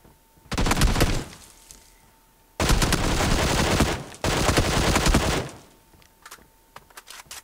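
Rapid bursts of automatic rifle fire in the PUBG Mobile Sanhok map, three loud sustained volleys close up, the second two separated by a brief gap, with quieter clicks and rustles in the pauses and no talk.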